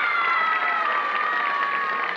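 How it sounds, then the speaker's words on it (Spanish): A television audience applauds and cheers loudly at a tribute show. The dense clapping is mixed with shouts and some sustained tonal sound, and it carries on evenly for a couple of seconds. "Aplausos"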